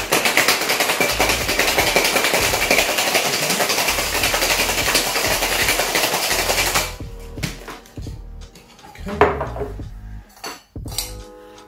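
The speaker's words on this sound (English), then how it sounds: "And we're gonna go for a hot shake." Mezcal cocktail with bitters being shaken hard over ice in a shaker, a dense, loud, continuous rattle of ice for about seven seconds that stops abruptly, followed by a few scattered clinks and knocks.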